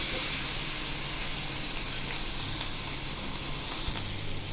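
Tindora (ivy gourd) and green chili sambharo with salt and coriander-cumin powder cooking in a pan, giving a soft, even sizzle and hiss throughout with faint stirring clinks, no voices.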